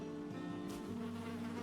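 Insect-like buzzing from bees in the video game Valheim, a steady drone with wavering tones, close and continuous through the short moment with no talk.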